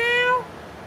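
A cat gives one short, clear meow close by, rising then falling in pitch and ending abruptly, with faint background room noise afterward.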